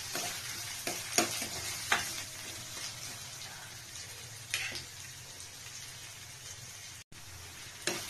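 Onion stir-frying in a spoon of oil for veg biryani masala, a steady close sizzle with occasional scraping clicks of a spatula against the pan, no voices.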